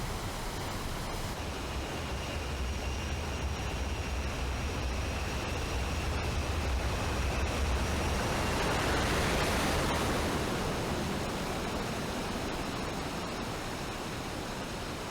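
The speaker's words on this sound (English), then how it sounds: "Big waterfall." A big waterfall in the video game Final Fantasy XII gives a constant broad roaring rush that swells slightly toward the middle and holds steady throughout, with no voices.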